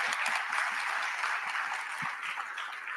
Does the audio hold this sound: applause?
yes